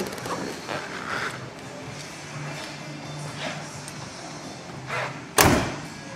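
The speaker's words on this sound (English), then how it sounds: "Doors open and close like brand new." A single sharp thud of a 1970 Chevelle SS car door shutting near the end, preceded by faint mechanical clicks and handling noises in a quiet setting.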